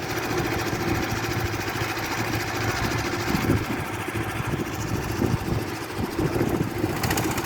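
A passenger boat engine throbs steadily on a tidal river near Chittagong, a continuous loud drone with no break across the whole stretch.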